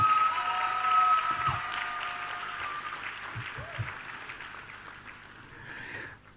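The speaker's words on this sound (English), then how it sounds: "we're going to send a clap from here to the airport where he is" Clapping from a youth entrepreneurship programme audience, louder at the start and fading gradually, with tonal whistle-like sounds and a few low thumps mixed in.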